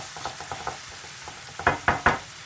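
Onions sizzle in hot oil in a pan while a utensil stirs them, with scraping strokes that grow louder and sharper toward the end.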